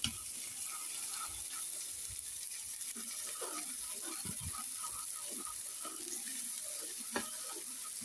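Fried rice sizzles steadily in a hot pan, stirred with wooden chopsticks: a constant crackling hiss with scattered pops and light utensil clatter; no voices.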